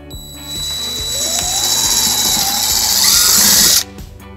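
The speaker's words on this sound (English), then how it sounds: "we'll drill our first hole." A power drill with a 3/16-inch bit whines steadily for a few seconds, its pitch rising as it bores through a 2019-2025 Honda Passport bumper, then cuts off abruptly.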